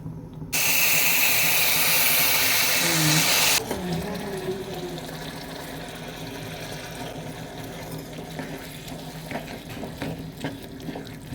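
Milk cream heating in a pan to make ghee: a loud hiss for the first few seconds, then a softer steady bubbling simmer with faint clinks.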